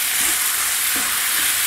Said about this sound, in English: So those we just want to toss in and we're going to cook just for a minute.